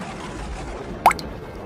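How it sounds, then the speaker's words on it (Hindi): A single rainwater drip falls from a leaking roof during a heavy night storm in an animated story. It is one short, fairly close plop in an otherwise quiet scene. "पूरी रात खूब जोरों से बारिश होती है, जिसके मारे उस गरीब परिवार का सोना दुर्लभ हो जाता है और छत जगह जगह से टपकने लगता है।"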